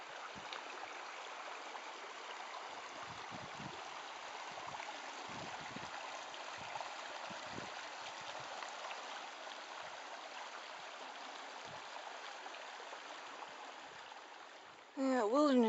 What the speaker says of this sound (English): it's coming from the falls.